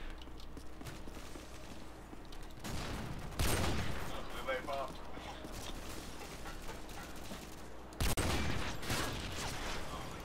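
Gunfire in Modern Warfare 2, with bursts of loud shots and a couple of heavy blasts over continuous game noise, and a voice talking at times.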